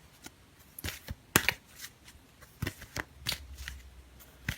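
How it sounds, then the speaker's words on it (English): Tarot cards being shuffled by hand, a run of crisp riffling flutters and soft slaps spread across a few seconds, close and fairly quiet with no talking. "I just want to draw out another card for you for your career"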